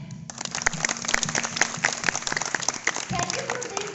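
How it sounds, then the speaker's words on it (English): An audience applauds after a Teachers' Day performance, with clapping that begins abruptly and continues through the clip over a steady low hum, while a voice speaks briefly near the end. "Please give a huge round of applause for clap."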